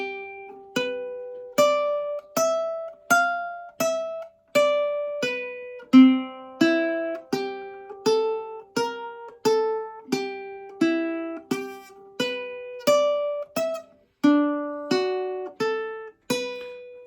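A ukulele plays an eight-bar G boogie solo in simple quarter-note strokes, a clear, close, steady pulse of bright plucked chords with each one ringing and decaying before the next, and no voices.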